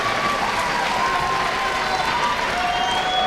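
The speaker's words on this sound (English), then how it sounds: "draws an emphatic cheer from the Panther faithful" A high school girls basketball crowd in a gym roars and claps with a continuous, loud cheer after a foul-and-one play, with squeaking sneakers and faint voices mixed in.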